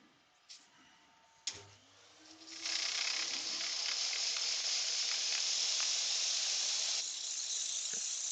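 Turned wood spins on a lathe while 80-grit sandpaper is pressed against it. After a couple of knocks, a loud, steady abrasive hiss starts and holds, then eases off slightly near the end.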